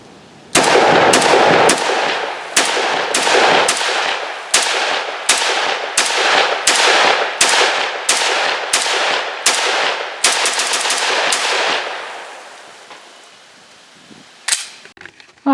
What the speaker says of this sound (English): let's run one more mag through it